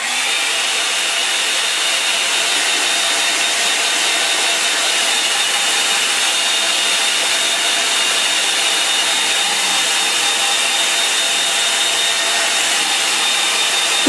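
A hair dryer blowing steadily and loudly nearby to dry a freshly painted landscape, a continuous even whoosh for the whole stretch with no talking.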